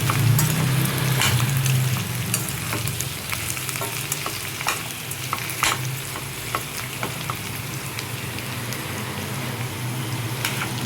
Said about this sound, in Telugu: దుంపలు కట్ చేసుకున్నవి వేసుకోవాలి. మొత్తం ఇలా కలుపుకోవాలి.